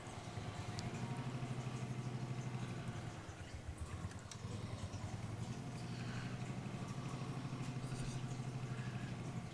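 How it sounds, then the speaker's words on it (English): A small old tractor engine in Farming Simulator 22 chugs steadily with a low, rhythmic putter and some mechanical clatter, continuous and fairly close throughout. "Look at this little old tractor."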